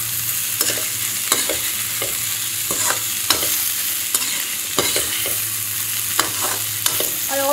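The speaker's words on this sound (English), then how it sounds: "Be patient to stir it." A dish stirred in a pan, with regular scraping and knocking strokes of a spoon over a continuous soft sizzle, close and fairly loud, with no voices.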